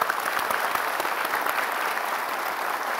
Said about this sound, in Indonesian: kita kasih tepuk tangan Bang Joni